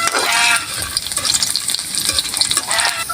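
Garlic sautés in a hot pan, a steady loud sizzle with crackling spatters and stirring scrapes, close and continuous, with no talk.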